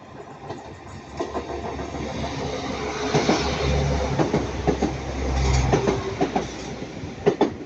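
A Northern train runs through Ardwick station in Manchester with a loud, steady rumble and rhythmic clickety-clack of wheels over rail joints, swelling as it passes close by, with no talking.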